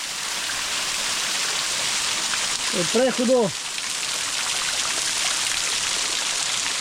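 Hot spring water at 60 to 70 degrees flows over travertine in Georgia, a steady loud rushing wash throughout, with a man's short spoken remark briefly cutting in near the middle.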